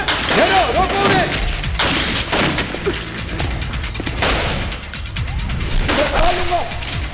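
Rapid bursts of gunfire crackle continuously, with loud bangs and clattering mixed into a dense, noisy battle scene; shouting voices surface briefly.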